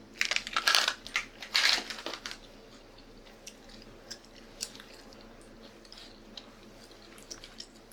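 Spearmint gum chewed close to the ear in a quiet room, with a couple of louder wet crunching bites at first, then soft, sparse smacking and clicks.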